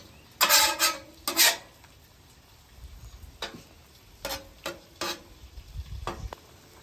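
Eggs sizzle on a flat griddle, a steady close frying hiss broken by sharp spatula scrapes and ticks in short bursts, with no talking.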